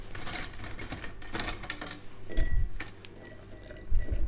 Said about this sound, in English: So now I can pop them in the jar